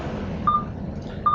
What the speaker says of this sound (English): I'm sorry about the beeping in the background